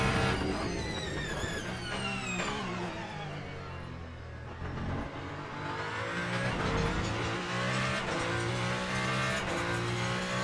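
A race car in the sim racing game Le Mans Ultimate revs hard through gear changes, its engine note climbing and dropping repeatedly with brief tire squeal, loud and continuous throughout.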